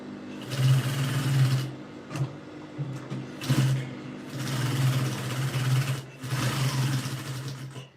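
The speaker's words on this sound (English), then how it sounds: "Just to top stitch on it to avoid the lining moving away." Domestic sewing machine top stitching the lining of a bustier peplum blouse, loud steady whirring runs of stitching with a few short pauses between bursts, close up with no talk.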